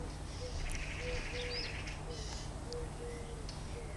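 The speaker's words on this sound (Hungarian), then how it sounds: "Hát oda Rigó is fütyül. Rigó is fütyül, hallod?" Faint, fluting blackbird whistles repeat in short phrases at a distance, over steady outdoor background noise.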